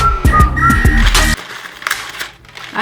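A small toy whistle from a Christmas advent calendar is blown in a few short, shrill toots, followed by quieter handling sounds.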